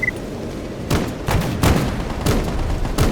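Gunfire in the video game S.T.A.L.K.E.R., a scattered series of muffled, booming shots at irregular intervals over a steady ambient rumble, sounding some distance away.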